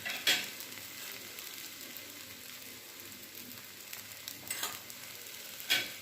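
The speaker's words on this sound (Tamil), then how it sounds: "இந்த தோசை போட்டிருக்கேன்னா இதை திருப்பி போடுறோம்" A dosa frying on a hot pan: a gentle, continuous sizzle close by, with a few brief scraping clicks as it is turned.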